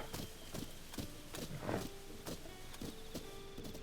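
A horse trots along in Zelda: Tears of the Kingdom, its hooves clip-clopping in a steady, even rhythm of quick, close strikes over a soft ambient background.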